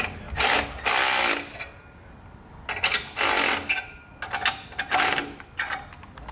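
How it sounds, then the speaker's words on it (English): A ratchet fitted with a crow's foot tightens clamp bar hardware while installing Air Lift LoadLifter 7500 XL Ultimate air helper springs, heard as about five close, loud bursts of rapid clicking separated by short pauses. "Now we can come down to our clamp bar and tighten and torque down the hardware here"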